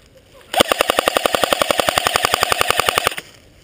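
An automatic airsoft gun fires at an outdoor D-Day-themed skirmish. A sharp, loud burst of about two dozen evenly spaced shots lasts under three seconds, with no voices.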